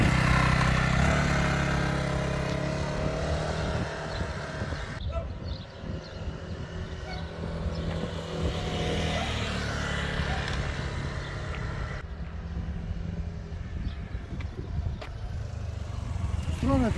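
Engine of a 2022 Honda SH 150 scooter running, a steady mid-pitched hum with shifting revs, heard continuously under people talking nearby.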